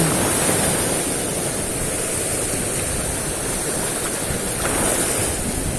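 Big, rough ocean waves at sea roll and crash in a continuous loud wash of surf, with wind mixed in and no voices.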